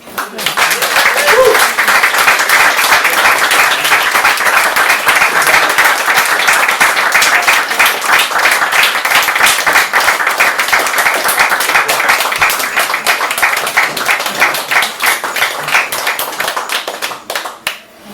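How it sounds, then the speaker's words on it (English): An open mic audience gives a long round of applause, dense, close, steady clapping from many hands holding loud for about fifteen seconds before thinning out, with a few voices mixed in. "I know that was a big round of applause"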